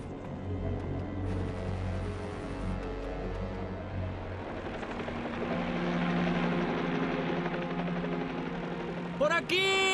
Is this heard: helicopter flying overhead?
yes